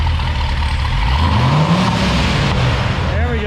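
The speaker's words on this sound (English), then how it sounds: "Give it one more rev to like 3 grand." A C7 Corvette V8 with cheap aftermarket headers revs up toward 3000 rpm, its loud, raspy exhaust climbing in pitch and then easing off, close by and continuous.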